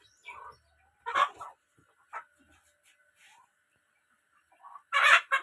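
A hen with a newly hatched, day-old chick makes clucking sounds in several short separate bursts with quiet gaps between, close by, and the last burst is the loudest.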